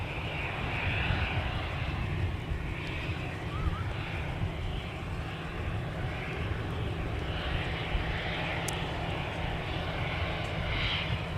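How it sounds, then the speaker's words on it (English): Delta Airbus A321 jet taxiing along Taxiway Whiskey toward runway 17 at Minneapolis–St. Paul Airport, a steady, continuous engine roar with a broad low rumble and hissing whine, unbroken throughout at moderate distance. "The Cadillac of the Delta fleet, the A321, moments ago making the turn, joining Taxiway Whiskey en route to runway 17 for departure"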